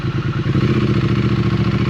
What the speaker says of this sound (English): But it is loud, and it has a lot of gurgle, which I like.